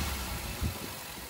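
A 2007 Maruti Suzuki Wagon R petrol engine idles steadily at close range, a low even hum with a slight swell midway, no voices.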